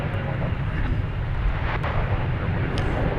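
An American Airlines passenger jet arriving from Tulsa at Dallas Fort Worth Airport, a steady, loud low-frequency engine roar with wind rumble, continuous over a few seconds.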